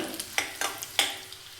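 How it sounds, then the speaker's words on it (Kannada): Cumin, chana dal and urad dal frying in oil, a soft crackling sizzle broken by a few distinct spoon scrapes and taps at a slow, uneven rhythm, close and fairly quiet. "ಜೀರಿಗೆ, ಕಡಲೆಬೇಳೆ, ಉದ್ದಿನಬೇಳೆ ಇದೆಲ್ಲವನ್ನು ಸೇರಿಸಿ ಸ್ವಲ್ಪ ಕಲರ್ ಚೇಂಜ್ ಆಗೋವರೆಗೂ ಫ್ರೈ ಮಾಡ್ಕೊಳ್ಳೋಣ"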